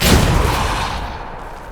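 A Depulso spell cast in the Hogwarts Legacy video game: one loud, booming blast hits hard at the start, then a rumbling wash decays over under two seconds.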